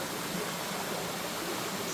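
Small creek running toward the edge of Upper Piney Falls, a steady, broad rushing hiss of water at moderate level, close by, with no voices.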